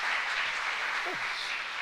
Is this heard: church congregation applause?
yes